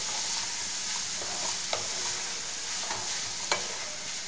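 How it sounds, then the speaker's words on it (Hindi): Soybean chunks stirred into masala frying in a pan, a steady sizzle with a few distinct scraping clicks of the spoon against the pan, close and even, no talking. "अब हम इसके अंदर जो हमारे सोयाबीन था उसको डाल देंगे और इसको अच्छे से मिक्स कर देंगे"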